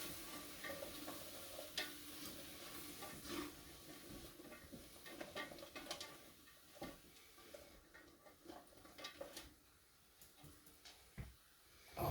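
Vegetables for chili sauté in a pressure canner, with a soft, uneven sizzle and occasional stirring clatter, fairly quiet and close, with no talking.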